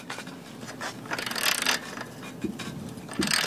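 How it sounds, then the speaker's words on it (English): A bolt being loosened and taken off by hand with a wrench, giving repeated ratcheting clicks and scraping metal bursts at close range with no talking. "my first helper ranger is going to take off this bolt right here"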